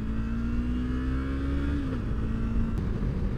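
A BMW M850i pulls away down a boulevard, its engine droning and holding a steady tone that rises briefly, then settles under continuous road and cabin rumble.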